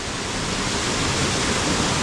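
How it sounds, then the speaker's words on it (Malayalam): A small waterfall on a hiking route in Oman pours in a steady, loud, broadband rush of falling water, close by and constant throughout with no voices over it. "ഇങ്ങോട്ട് വരുന്ന വഴി ഒന്ന് ഇറങ്ങിക്കഴിഞ്ഞാൽ ഈ ഒരു ചെറിയൊരു വെള്ളച്ചാട്ടം നമുക്ക് കാണാൻ പറ്റും കേട്ടോ"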